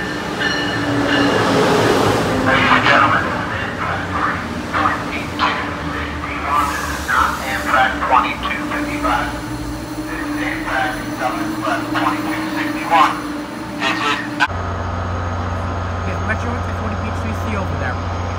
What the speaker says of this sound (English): Wow, these things, I love these locomotives, they're awesome.